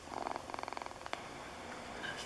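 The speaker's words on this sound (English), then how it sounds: "Cat Purring" A soft, rhythmic cat purr, a recording played from a sleep app on an iPhone 4s, pulses in quick repeated beats, then fades into a quieter hum with faint background noise.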